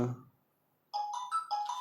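A phone ringtone goes off during an online class, a series of bright, repeating electronic tones that start abruptly after a brief voice and pause and continue steadily, moderately loud and alone.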